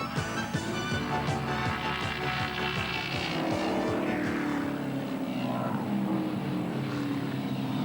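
Touring race cars at the 1985 Bathurst race, including BMWs, roar past with a steady, loud engine drone and rising and falling pitch as they circulate the mountain circuit, with no talk over the noise.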